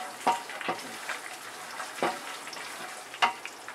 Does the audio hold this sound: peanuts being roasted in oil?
yes